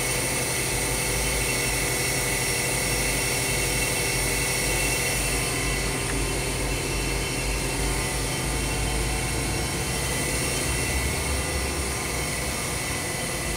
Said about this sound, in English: And we'll go ahead and do 3000 RPMs. This is a 7500 RPM spindle.